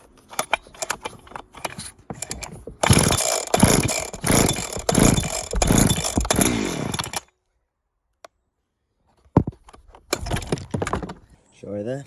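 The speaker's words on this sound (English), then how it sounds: "I'll just quickly give you a demonstration of the saw all running." A Husqvarna 372XP chainsaw, freshly fitted with a replacement starter pulley, roars loudly at close range for several seconds with revving swells, then cuts out; after a short silence it sputters and restarts.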